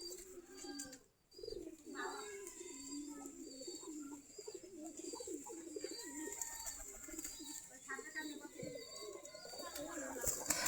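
Native Giribaz pigeons coo steadily while feeding near a coop doorway, with soft overlapping calls and some rustling that continue throughout.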